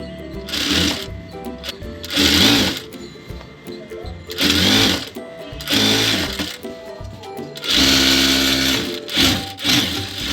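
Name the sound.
sewing machine stitching elastic onto salwar trousers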